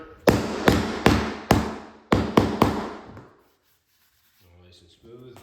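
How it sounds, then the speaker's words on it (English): A rubber mallet knocks flooring planks into place during a farmhouse renovation: about seven sharp, close thuds in an uneven rhythm, each ringing out briefly, followed by a pause and some faint speech. "then you get your rubber hammer"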